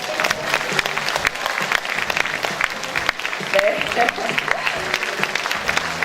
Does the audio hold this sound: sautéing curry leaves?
no